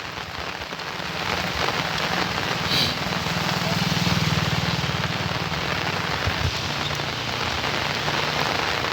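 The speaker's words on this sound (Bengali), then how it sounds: "মেঘলা আকাশ, সকাল থেকেই মোটামুটি বৃষ্টি ভালোই হচ্ছে।" Steady rain falls on surfaces under an overcast morning sky, a continuous dense hiss of drops with a faint low hum underneath, unbroken from start to finish.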